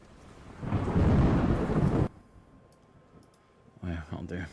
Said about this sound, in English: Let me put the rain on.